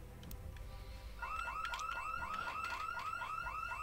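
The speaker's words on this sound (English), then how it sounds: "That's three different house alarms that have gone off." A house alarm in the Project Zomboid zombie survival game wails in a fast, steady, rising electronic pulse that repeats over and over at moderate volume, with no talk over it.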